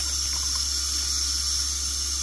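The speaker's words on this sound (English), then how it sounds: "run your water." Tap water runs steadily to fill a bag of coleslaw mix for washing, a constant hiss with no breaks and no voices.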